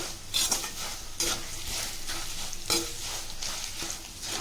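Paper poha chivda mixture with peanuts, turmeric and salt frying in a pan, a soft steady sizzle with a utensil stirring and clinking against the metal every second or so; quiet and close, no talking.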